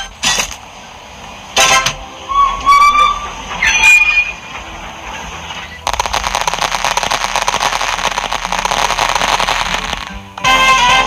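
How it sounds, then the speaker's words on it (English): Toy steam locomotive train produces short whistle toots and clicking mechanical sounds, then a loud sustained hissing rush like escaping steam for several seconds, ending with a brief toot. "The train is ready."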